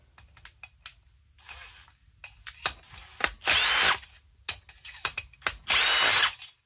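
A power driver unfastens the muffler bolts on a 590, giving repeated short buzzing bursts, two of them longer and louder, with small clicks and handling noises in between, close up and without talk.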